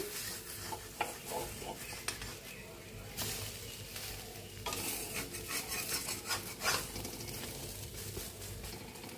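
Bread and egg cook in a kadai with a soft continuous sizzle, while utensils stir and scrape against the metal in irregular clatters throughout.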